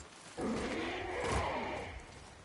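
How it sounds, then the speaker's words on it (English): A deep, rumbling creature growl in God of War rises abruptly and holds for about two seconds, loud and close, with a raspy, snarling edge before tapering off. "Now, who is this over here growling?"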